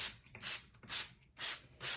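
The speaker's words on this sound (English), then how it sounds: "spray the desired clean window surface with water" Five short hissing bursts of a spray bottle misting water onto a window, evenly spaced, close up and alone.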